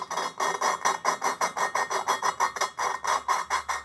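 A valve being lapped by hand into a cylinder head prepared for F2000 racing, using grinding paste, gives a close, steady series of rhythmic back-and-forth gritty rasping strokes, about four per second, with no talking.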